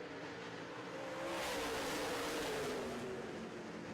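Late model race cars roaring off at the start of a ten-lap heat race, a blended engine drone from several cars that swells and holds at a distance, with no voices.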